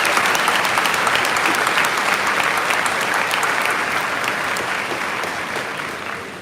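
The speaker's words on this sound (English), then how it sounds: "Let's give them another round of applause." Steady, dense applause from a large crowd at a 2022 university undergraduate graduation ceremony, sustained and evenly loud for several seconds before easing slightly at the end, with no speech over it.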